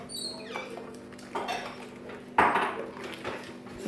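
Jiffy cornbread batter with egg, milk and a little flour stirred in a bowl, a spoon scraping and clinking against the sides in irregular strokes, with one sharper knock partway through, close and fairly quiet.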